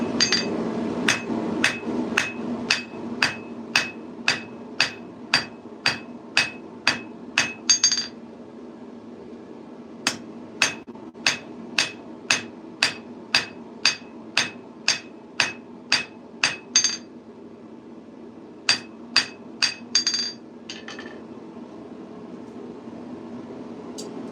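Hammer blows forge a piece of coil spring steel held in tongs, ringing in steady rapid runs of sharp metallic strikes with short pauses between bursts, close and loud over a faint background hum.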